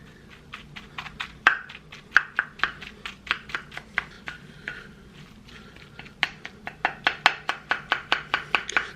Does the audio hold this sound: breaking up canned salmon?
yes